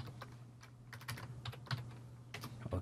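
Quick, close keyboard typing on a computer produces a busy run of sharp clicks and key taps over a faint low hum, with no voice.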